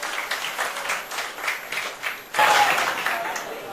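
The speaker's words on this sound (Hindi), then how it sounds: "एक बार फिर से एक बार जोरदार तालियां कन्हैया और शुभ्रस्था के लिए बजा दीजिए।" An audience claps for participants Kanhaiya Kumar and Shubhrastha at a televised debate, steady applause that swells louder partway through and continues to the end, with speech faintly mixed in.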